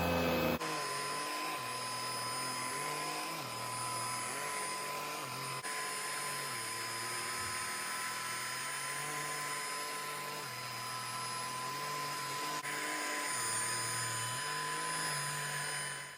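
Handheld UV mattress vacuum cleaner with a rolling brush runs steadily and loudly, a constant motor whine with a high-pitched tone and a brief dip midway, no voices.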